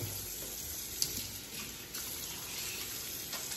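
Tap water runs steadily into a kitchen sink as hands are washed during burger prep, a soft, even splashing hiss close by with a faint clink near the start.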